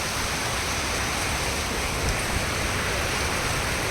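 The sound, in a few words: fast-flowing water stream in a village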